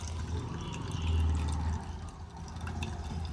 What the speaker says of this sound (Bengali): কিভাবে রসটা ঢালছি দেখো।